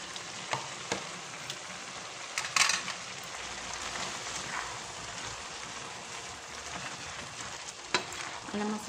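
Cabbage stir-fries in a pan for pancit sotanghon, a soft continuous sizzle with scattered clinks and scrapes of a utensil against the pan.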